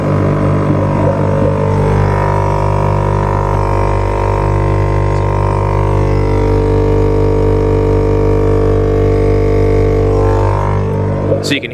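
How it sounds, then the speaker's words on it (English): An air suspension compressor and tank running close by, a loud steady droning hum with strong low harmonics that holds for the whole stretch and shifts slightly near the end. "I have a tank and compressor, which you can hear running actually back here."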